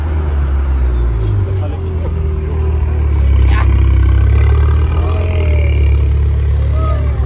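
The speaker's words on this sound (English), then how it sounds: "This is a BMW." A BMW engine rumbles loud and close at a street car meet, a deep steady drone that swells slightly partway through, with voices and other car noise around it.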